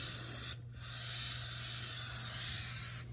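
Close, loud hissing bursts of an aerosol can of carburetor cleaner sprayed on a 1997-2002 Dodge Ram, one brief pause early on, then a long continuous spray that stops near the end.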